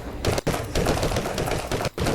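Sustained automatic gunfire in the State of Decay 2 video game, loud rapid bursts with two brief gaps, no talk over it.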